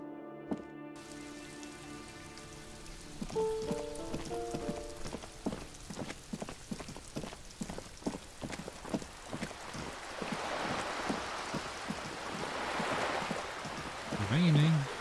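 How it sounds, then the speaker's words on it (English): Steady rain patters through the Disco Elysium video game soundscape, with rhythmic clopping steps, a brief musical tone early on and a short voice near the end. "Raining."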